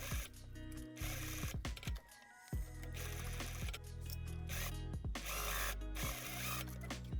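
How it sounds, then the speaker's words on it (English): A sewing machine stitches across a piping seam on velvet, a loud, close mechanical whir in bursts that briefly stop and restart. "I'm just gonna sew right over top of the piping seam."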